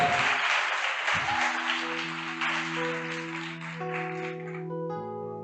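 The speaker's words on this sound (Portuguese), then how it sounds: "Pode aplaudir." Audience applause at a church youth vigil: a dense, steady wash of clapping that holds throughout, while sustained keyboard chords come in underneath and ring on as the clapping thins toward the end.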